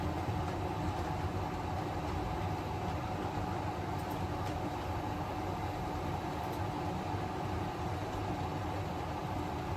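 A model train's steady, low rumble rolls on continuously with a faint mechanical hum, close by and even in level throughout.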